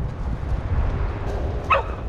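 A dog gives a single short bark, fairly close, near the end of the moment over a low outdoor rumble and background noise during magnet fishing in a town.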